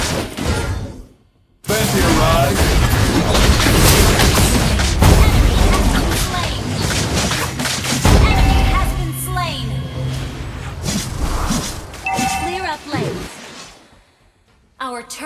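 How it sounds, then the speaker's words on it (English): A turret is destroyed in a team-based online video game, with loud booming explosions and dense bursts of gunfire-like blasts that run continuously for most of the stretch. A short silence comes first and a quieter tail follows. Voices talk over the action. "Our turret has been destroyed."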